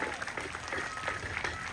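A castle audience at the Turku Castle jousting tournament claps together in brief, dense applause. The many hands give a close, lively patter.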